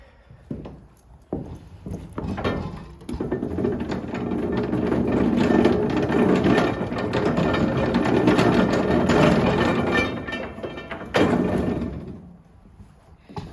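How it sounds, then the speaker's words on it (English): A hand-cranked corn sheller stripping kernels off cobs, a loud continuous mechanical rattling and grinding with rapid knocking that runs for about ten seconds before slowing and stopping, close by. "Gears on the inside would take it and then crush it up and knock all the kernels off."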